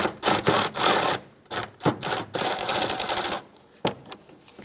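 Rapid rattling bursts from a tool loosening the 10mm bolts on the radiator shroud of a 1994-2004 Chevrolet S-10, a few close, loud runs separated by short pauses.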